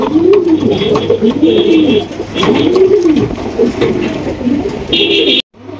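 Beauty pigeons coo in repeated rolling phrases, loud and close, with a faint steady hum and a brief high tone in the background.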